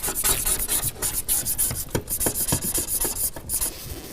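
Scraping old window tint and glue off the edges of a Chevy Suburban window, a rapid rhythmic series of gritty rubbing strokes, close and fairly loud, with no talking.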